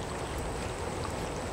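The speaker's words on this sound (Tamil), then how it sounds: "ஆற்றுக்கு நடுவில் உட்காந்துருக்கோம். நல்லா தண்ணி ஃபுல்லாக போயிட்டுருக்குது." River water rushes strongly around people sitting in the middle of the river, a steady, broad, close hiss with no talk.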